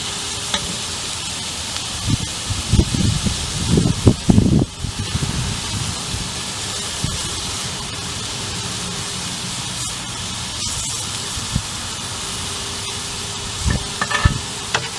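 Chuck roast steak searing on a grill, a steady broadband sizzle with brief louder bursts of crackle and flare early on, continuous and unaccompanied by any voice.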